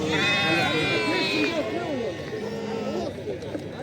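Lambs at a sheep market bleat repeatedly in wavering, overlapping cries, close and fairly loud, over a busy background of traders talking.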